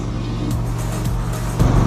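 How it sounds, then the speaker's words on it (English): A motorbike engine idling then revving as it pulls away in fifth gear, a loud steady low rumble that rises briefly near the end, close by. "I had started my bike in 5th gear, rode for a short distance"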